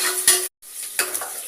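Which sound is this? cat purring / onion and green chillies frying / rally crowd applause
onion and green chillies frying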